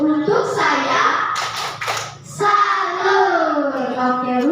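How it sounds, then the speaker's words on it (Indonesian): Primary-school pupils in a classroom do the tepuk salut clapping routine, a quick cluster of claps landing mid-clip amid sustained children's chanting and voices nearby. "Tepuk salut untuk diri sendiri."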